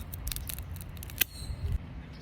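Cigar-cutting scissors snip with a few quick metallic clicks and one crisp cut through a cigar, close up and quiet against a soft background hiss.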